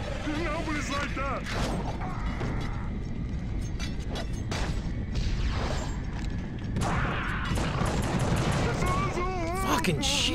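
Gunshots ring out in The Suffering as hellhounds are fought off, scattered sharp blasts among mechanical clanks and creature noises, with voices talking over the action throughout.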